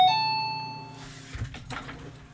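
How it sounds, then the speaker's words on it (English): A doorbell rings indoors with a single clear electronic chime that decays over about a second, followed by faint muffled household noise. "Goddamn doorbell"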